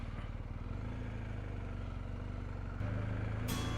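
A BMW R1250GS motorcycle loaded with panniers and a top box rides along, its engine droning steadily close by with wind rush, the tone rising and loudening near the end.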